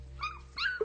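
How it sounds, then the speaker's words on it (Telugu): A dog whimpering, two short high whines close by in under a second over a low background hum. "ఈ కుక్క నాదే."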